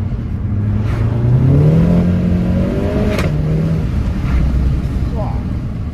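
The engine of a small, low-powered car revs up steadily and loudly close by, its pitch rising and sliding over a few seconds. Voices murmur beneath the engine noise.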